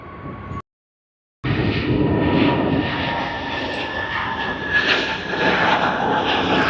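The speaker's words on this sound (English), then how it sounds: "let us just have a look at Sydney to Townsville service on Jetstar JQ912 on the Airbus A321 200NX long range" A Jetstar Airbus A321neo LR jet at Sydney Airport, a loud steady engine roar and whine that holds throughout after a brief dropout near the start, with no talk.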